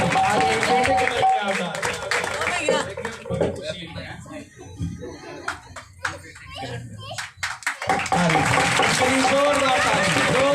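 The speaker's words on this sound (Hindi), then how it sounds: "जोरदार ताली इनके लिए, जोरदार।" A church congregation claps loudly for honoured congregants during a sermon, with bursts of hand clapping that swell, thin out and return alongside talking and children's voices.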